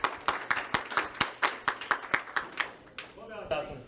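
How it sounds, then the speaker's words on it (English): Rhythmic clapping from a school audience at a geometry bridge building and breaking finals, a steady beat of sharp claps for about three seconds with whoops and voices joining as it fades. "Round of applause."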